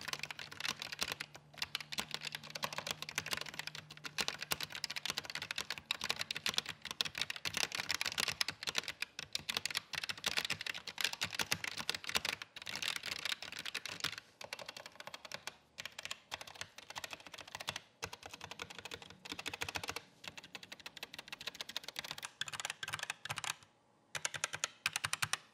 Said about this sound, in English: still pretty clacky, especially when typing with these keycaps on top of that metal plate